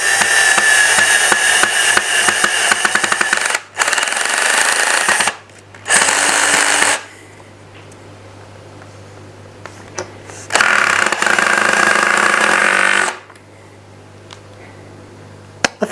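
Power tool driving a screw into a DIY plant and grow light stand, with bursts of loud whirring, several in a row separated by short pauses, near and without talk.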